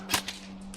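A single airsoft gun shot during an outdoor game, a sharp, close snap followed by a fainter second pop over a steady low hum.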